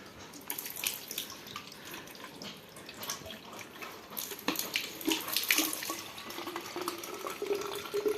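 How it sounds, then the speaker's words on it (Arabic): Water runs from an outdoor tap into a container in a rural village, a steady close splashing and gurgling with no talking. "نعمر الماء هذا"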